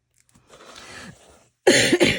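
A person coughs, a faint throaty cough first followed by a pause and then two loud, close, sharp coughs in quick succession.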